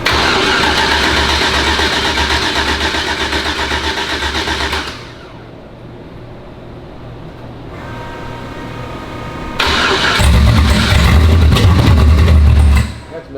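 A car engine fitted with Holley EFI runs rough and misfires, loud and close. The engine note rises, drops back to an uneven idle, then surges again near the end. Nobody speaks over it.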